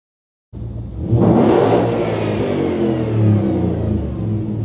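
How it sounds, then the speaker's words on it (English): A Land Rover Defender 110, originally a 300 TDI, now fitted with a Coyote 5.0L V8, starts abruptly on a dyno and revs into a loud, sustained engine roar that holds steady close by. "Today on the dyno we've got a Defender originally 300 TDI and it's been upgraded by Icon Motor Company with a Coyote engine"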